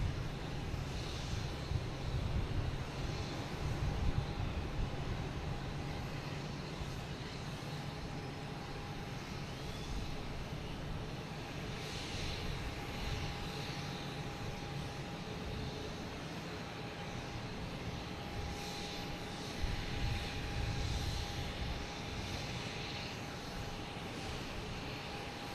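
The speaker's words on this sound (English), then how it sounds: "We have American Airlines here coming in from Miami." American Airlines jet arriving from Miami at Boston Logan Airport, a broad distant engine roar holding steady throughout with a faint whine and no talk.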